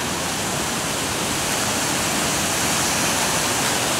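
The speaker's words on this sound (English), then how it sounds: "I'm heading towards the waterfall." A waterfall roars as a steady, dense, full-band rush of falling water heard close up, unbroken and alone, on a cold day upstate.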